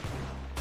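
Silenced pistol fire in the Roblox shooter Arsenal, a short muffled burst of shots that lands as a dense blast and then swells again near the end, with no talk over it.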